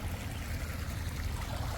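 Irrigation water runs into a farm field with a low, steady rushing trickle, close and continuous for the short stretch, and no voices.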